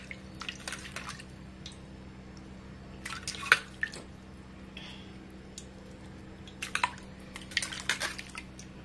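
A piece of salted fish is rinsed in water by hand, giving quiet, intermittent splashes, drips and squishy wet handling in short bursts over a low background hum.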